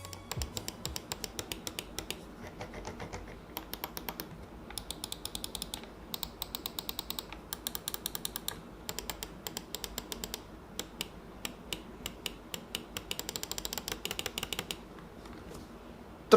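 Crisp clicks of a Sades Oculus S30 mechanical keyboard with tactile Huano switches being typed on in quick bursts, pausing briefly between runs of keystrokes, close and clear.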